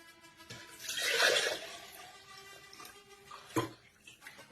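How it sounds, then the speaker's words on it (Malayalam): Water poured into juice powder in a single splashy gush lasting about a second, followed by quieter drips and a brief later clatter, close by with no talking. "ഇനി വെള്ളം ഒഴിച്ചു കൊടുക്കാം"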